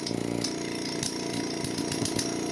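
A TCP Global TC20 air compressor drones continuously with a loud, rattling motor, harsh and mechanical, with irregular clanks and bursts layered over the steady churn.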